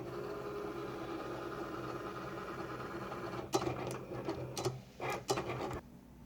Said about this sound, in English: the cut button is flashing, so I'm going to press that, and it will begin to cut out my design